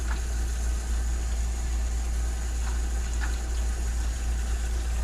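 A water pump in an RV RO water system drones with a steady low motorized hum without pause, with faint intermittent clicks over the constant drone.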